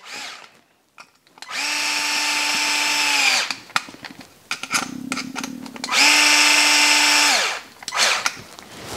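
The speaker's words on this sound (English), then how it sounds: "take my driver, start the screws one at a time." A power driver sinks screws into an RC chassis skid plate in two sustained whirring bursts, each about two seconds long, loud and close, with small clicks and handling noises between the runs.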